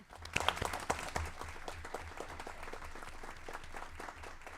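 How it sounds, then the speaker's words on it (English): An audience at a Cromwell Board of Education meeting claps, loudest at the start and then settling into steady, even applause, with a low hum underneath and no speech. "Now please join me in giving a loud round of applause to the incomparable, unstoppable, and always student-centered Emily Presley"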